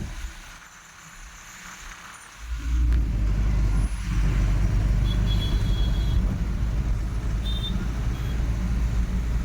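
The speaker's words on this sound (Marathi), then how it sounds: "जरा ट्रॅफिक भरपूर आहे" Heavy highway traffic outside Mangaon in the rain rises into a loud, steady rumble of passing cars and trucks after a quieter start, with a brief dip around the fourth second.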